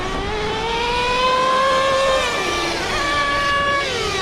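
Traxxas T-Maxx 3.3 nitro RC truck engine screaming at high revs, a loud continuous buzzing whine that rises and dips as the throttle changes, close by and alone.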